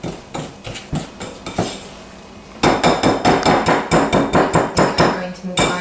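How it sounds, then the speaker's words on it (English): A whisk beats cookie batter in a bowl with rapid rhythmic knocks against the sides, first in short bursts, then a fast, loud, regular run of clacks close by. "we just want to give this a good mix, but we don't want to over mix it"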